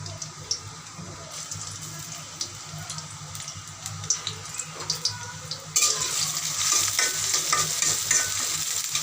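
Three onions sizzle and fry in a pan for a winter vegetable curry with beans, potato, cauliflower and hilsa fish, a steady hiss with occasional stirring scrapes that grows louder and brighter partway through.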